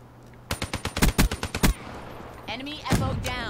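A rapid burst of about a dozen loud, close gunshots rings out in a first-person shooter game, followed by a short pause and then further game sound effects.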